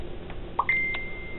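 A phone notification sounds as a short blip followed by a thin, steady electronic tone that holds to the end. It is fairly quiet against faint background noise.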